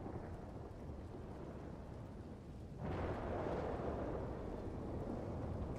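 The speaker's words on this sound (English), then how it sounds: "It's pissing rain outside." Heavy rain pours steadily outdoors as a dense, continuous wash of noise, growing noticeably louder and fuller about halfway through, with no voices.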